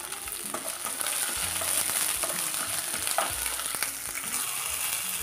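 Garlic cloves fry in a hot pan alongside halved green chillies for ivy gourd chutney, giving a steady, close sizzle with light stirring scrapes throughout, no voices.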